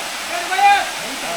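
Andharmanik waterfall on the Boalia trail in Mirsarai, Chittagong: a steady, broad rushing roar of falling water that swells slightly in the middle, with a faint tonal sound above it.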